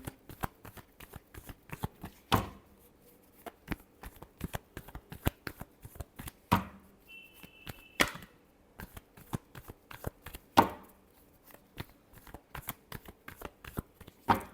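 Tarot cards being shuffled by hand, a long run of crisp riffles and sharp slaps close up, irregular and bursty, with no talking.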